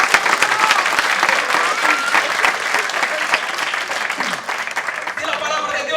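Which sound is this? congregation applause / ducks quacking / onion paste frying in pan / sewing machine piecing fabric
congregation applause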